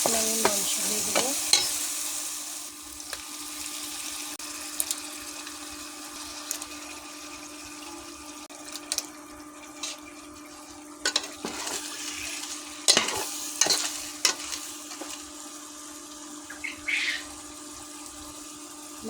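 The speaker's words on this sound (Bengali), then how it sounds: "মাংসটা মশলার সাথে ভালোভাবে নেড়ে নেব। মাংস এখন কষিয়ে নেব আমি।" Broiler chicken pieces fry in spiced masala while being stirred, giving a continuous sizzle with scraping and knocking from the stirring. Several sharper clatters come through in the second half, and no one speaks.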